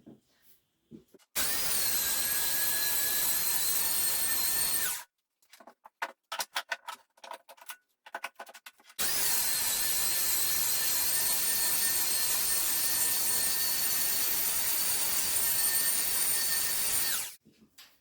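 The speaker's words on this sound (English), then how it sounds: "I'm going to use my belt sander just to clear up this board and make it look nice" A belt sander on a wooden board roars loudly in two long runs, a steady high-pitched whine, separated by a few seconds of quiet clicks and handling noise.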